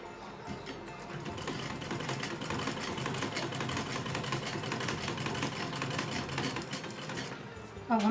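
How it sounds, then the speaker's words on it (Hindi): A sewing machine hums continuously at low volume while stitching a small Laddu Gopal dress, a steady rapid mechanical chatter close by with no pauses. "तो मैं यहाँ से इसे सिलाई लगाती हूँ।"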